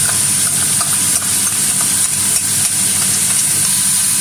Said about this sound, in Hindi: ये लहसुन अदरक का पेस्ट डालूंगी मैं।